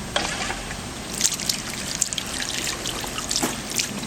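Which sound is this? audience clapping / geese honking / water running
water running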